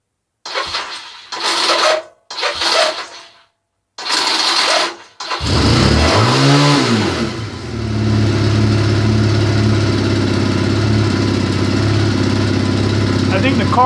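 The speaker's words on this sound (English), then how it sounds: "That's how you start an old Honda Rebel." An old Honda Rebel motorcycle in a cold garage cranks and catches, its engine rising in a couple of rough revs before settling into a loud, steady idle; a person talks in short bursts beforehand.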